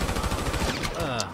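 Gunfire in GTA V, a quick rapid-fire burst of shots running for about a second, close and loud, with a voice speaking over it.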